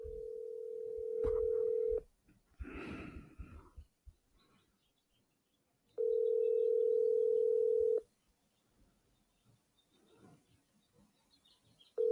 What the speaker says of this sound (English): Got to make another phone call.